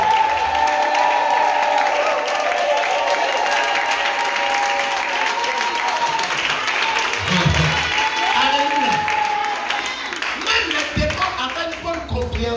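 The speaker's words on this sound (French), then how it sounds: "Ça dit à applaudir et pousser des cris de joie." A church congregation claps and cheers in a long, loud burst of applause, with shouts and voices mixed through the clapping before it thins out toward the end.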